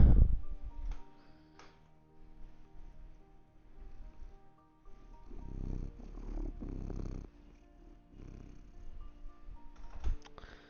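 A pet cat purrs close by, a low steady rumble under faint keyboard tapping and small household noises, with quiet stretches in between.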